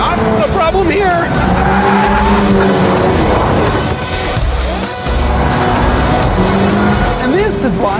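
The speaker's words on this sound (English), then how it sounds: "You can throw the GTI sideways on the way into a corner, but on the way out, he's only got understeer." A front-wheel-drive Volkswagen GTI corners hard on a track, its engine roaring loudly and close while tires squeal in repeated wavering whines; someone talks over the noise.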